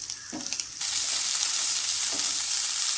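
Spinach tipped into a hot pan for a Kerala-style thoran stir-fry, with soft clatter of leaves landing before the oil bursts into a loud, steady sizzle that holds to the end, no voices.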